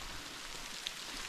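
Rain falling in a forest, with large drops mixed with small hail: a faint, steady hiss of rainfall on leaves and ground, with one brief sharper drop tap, no voices.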